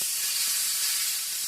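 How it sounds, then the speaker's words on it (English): Room-temperature steak sizzles on a smoking grill in a loud, steady hiss, close up and alone without talk. "That nice sizzle."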